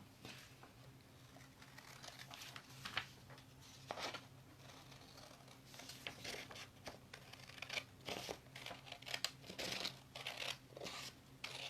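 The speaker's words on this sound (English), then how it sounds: "First, you need to cut out your scrunchie pattern." Scissors snip through a 4 by 18 inch sheet of paper to cut out a scrunchie pattern, giving a run of soft crinkling, tearing cuts and rustles at close range over a steady low hum, without talk.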